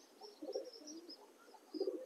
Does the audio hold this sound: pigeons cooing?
yes